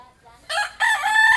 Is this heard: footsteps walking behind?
no